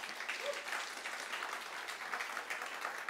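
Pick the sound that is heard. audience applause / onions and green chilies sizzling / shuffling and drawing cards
audience applause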